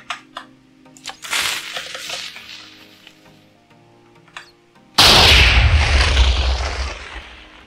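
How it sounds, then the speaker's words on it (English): A Minecraft TNT cannon built with command blocks: fizzing, sizzling fuses and scattered pops build for several seconds, then a loud, sudden booming blast erupts and rumbles on to the end. "this one spawns a TNT that gets shot out of the cannon"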